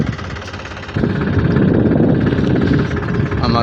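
A tractor engine runs steadily at close range on a farm field during wheat sowing, a constant low rumbling drone that grows louder about a second in and holds there.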